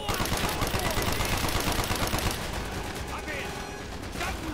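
An MP40 submachine gun rattles off dense, rapid automatic bursts in a Call of Duty Black Ops campaign battle, loud and sustained, with other gunfire layered around it and a voice talking partway through.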